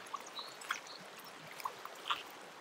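Hot spring water trickles and runs down a hillside, a faint continuous stream with small splashes and gurgles, soft and somewhat distant.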